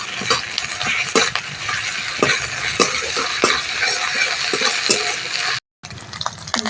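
Ginger garlic paste sizzles and fries steadily in a hot pan, with stirring scrapes and clinks over a continuous loud hiss, briefly cutting out near the end.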